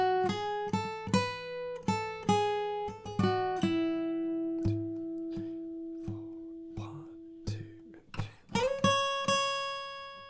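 Guitar playing a melody with plucked notes and slides between them; a steady run of picked tones that ring and sustain, then a gliding held note, close and alone with no talk.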